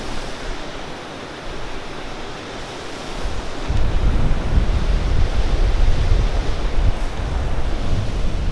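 Thompson River rushing outdoors along a hiking trail, a steady broadband wash of flowing water that swells louder midway and holds a constant roar, with faint wind buffeting the microphone and no talk.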